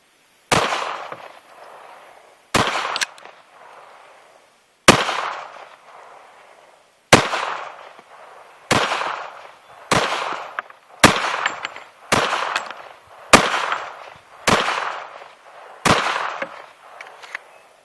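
A HiPoint JCP .40 S&W pistol fires eleven loud, sharp shots at a target about 10 yards downrange, each crack trailing off in a short echo, spaced at an uneven pace of one to two seconds with quiet between.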